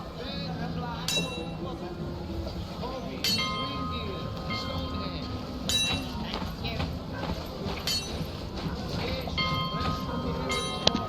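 A bell rings repeatedly in the audio game The Vale: Shadow of the Crown, its metallic strikes sounding every couple of seconds over a busy ambient bed of clinking and rumbling, while someone talks.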